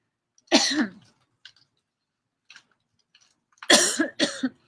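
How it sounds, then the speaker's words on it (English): Two bursts of harsh coughing, a single cough then a double cough a few seconds later, with faint clicks in the quiet between. "Yeah, I had a cough."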